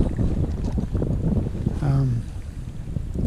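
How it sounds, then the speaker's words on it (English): Wind blows over the mic while someone bass fishes from a boat on a spring day, a steady rough outdoor rush that runs throughout with a brief tonal whine near the middle. "So, it's windy out here."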